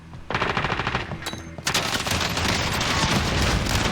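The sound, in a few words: Origin shotgun gunfire in video game Call of Duty Warzone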